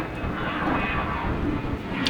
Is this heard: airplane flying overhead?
yes